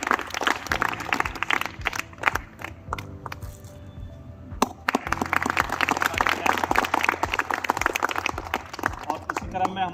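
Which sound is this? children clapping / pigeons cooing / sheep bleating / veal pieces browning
children clapping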